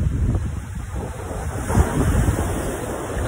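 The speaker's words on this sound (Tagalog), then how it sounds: "Grabe, lakas ng hangin." Strong wind roars across the tip of Lampinigan Island off Isabela City, Basilan, buffeting the microphone steadily with a gust swelling near the middle, mixed with the low wash of surf and no voices.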